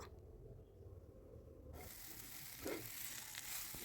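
Spice paste sizzling in a pan as it is stirred while frying capsicum, a quiet steady hiss with soft scraping of the spoon, faint and close, no talking.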